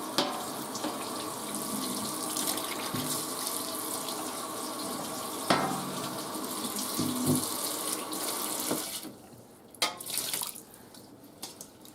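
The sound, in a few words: hot water running from a kitchen faucet into the sink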